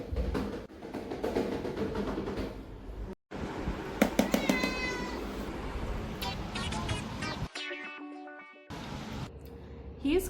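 A domestic cat meows in response to tapping that signals food, giving several short, close meows with pauses between them and scattered handling noises around them.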